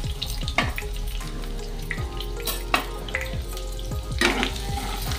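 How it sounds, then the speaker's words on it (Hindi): Grated garlic fries in mustard oil in a kadhai with bay leaf, cinnamon and cumin, producing a steady close sizzle with repeated stirring clinks and scrapes against the metal. "अब इसमें हम डालेंगे ग्रेट हुआ लहसुन"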